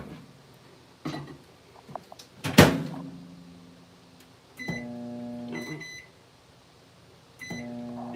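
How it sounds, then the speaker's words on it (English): A microwave oven set on high hums steadily while heating candy melts for dipping apples, with a door click and a burst of clatter early on, then two separate runs of steady humming. "In which my microwave is already on high."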